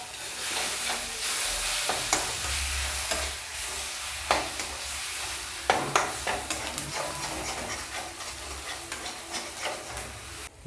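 Crab masala with tomatoes frying and being stirred in a pan, a steady sizzle broken by irregular scraping and clattering strokes of the spoon, close and fairly quiet, with no voices.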